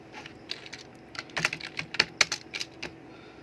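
Typing on a computer keyboard in Microsoft Word: quick, uneven key clicks in a short burst, close and fairly quiet, with no speech.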